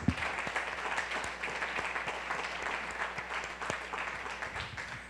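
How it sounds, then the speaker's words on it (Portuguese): A church congregation at a Sunday service applauds, a soft continuous patter of many hands clapping at a distance, fairly quiet with no voices over it. "Aplaudamos o rei."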